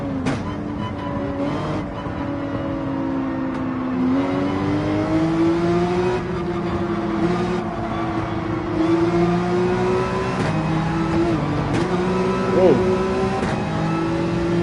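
A race car engine howls at full throttle in Gran Turismo 7, holding a steady, loud drone that rises and dips slightly with gear changes, while a voice talks over it.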